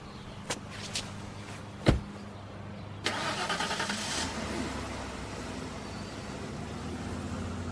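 A car engine starts: a few door thumps and clicks, a sharp knock, then the engine catches around the three-second mark and settles into a steady, moderately quiet idle rumble.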